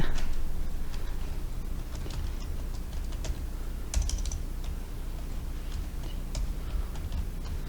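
Keys on a computer keyboard are tapped in quick, irregular bursts while text is entered, light clicks close to the microphone over a low background hum, with no speech.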